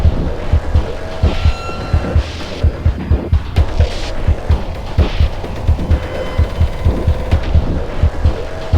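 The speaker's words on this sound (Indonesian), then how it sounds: "Jadi sound drumnya gue pilih yang lebih mendem dengan patokan beat dari suara detak jantung." Muffled, deep drum beat modeled on a heartbeat, thudding in a steady pulsing rhythm with paired low beats under a humming music bed, loud and close throughout.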